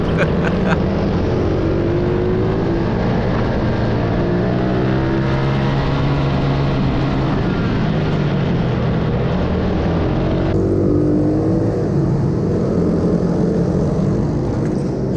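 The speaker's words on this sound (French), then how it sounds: "sa moto qui fait de plus en plus de bruit, cela devient inquiétant" Loud, steady engine drone with a whining pitch that rises and falls, like small motorbikes racing, continuous throughout with faint voices underneath.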